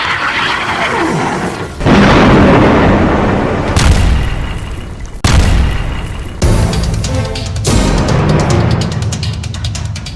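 Bombs explode in Gaza during Israeli bombardment: a series of heavy, loud blasts and booms, each cutting in abruptly and rumbling before the next, with no speech.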